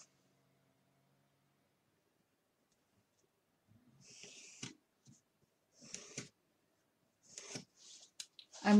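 Scissors snip through the folded paper pages of a book being cut for a wedding-cake book-folding design, a few short crisp cuts and rustles close by, quiet after an initial silence.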